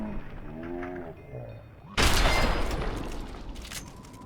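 A single loud gunshot blast from the video game Fallout 3 rings out abruptly after a short stretch of someone talking, then tails off into a long reverberating rumble.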